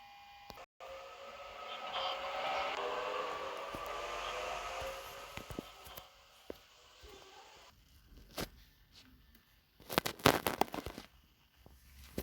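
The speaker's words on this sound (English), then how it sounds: "The train will be arriving and departing." A 4-car Oscar passenger train in a train simulator game arrives and departs at a station, a steady rolling rumble with a rising drone that fades out, followed by several sharp clanks and bursts near the end.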